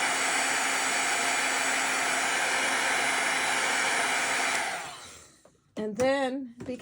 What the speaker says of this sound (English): Let me throw a little heat to dry that a little bit.